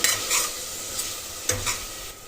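Curd stirred into aloo pudina rice bath in a pan, a gentle sizzle under a few scraping strokes of a spoon against the pan, close and moderately loud, with no talking.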